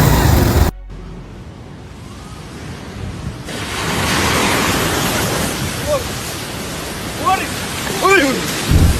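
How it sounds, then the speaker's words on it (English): Raging floodwaters rush like a waterfall with a loud, dense, continuous roar, a brief break early on, then a rising broadband surge with faint tonal squeals over the torrent. "The raging floodwaters, like a waterfall, swept away many vehicles."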